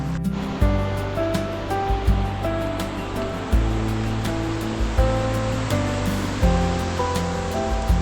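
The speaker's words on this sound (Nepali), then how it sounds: "यो दुध पोखरीबाट आएको पानी हो नि त दाइ" Meltwater stream flowing down from Dudh Pokhari lake in the mountains of Gorkha and Lamjung, a steady, close rushing of water running continuously throughout, overlaid with tonal background music.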